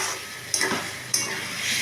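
A spoon scrapes and stirs a soybean and potato curry in a pan, two quick clattering strokes over a soft ongoing sizzle, close and with no voices.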